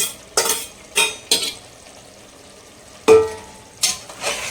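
Cooked mutton for biryani is stirred in a hot pan, with about six sharp spoon scrapes at irregular intervals over a soft, steady sizzle and no talking.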